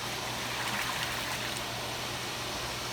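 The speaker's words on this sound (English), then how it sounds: "turn your pump on high speed so it will mix in" A hot tub pump running on high speed circulates the water, giving a steady rushing, trickling wash with a low hum underneath that holds constant and unbroken throughout.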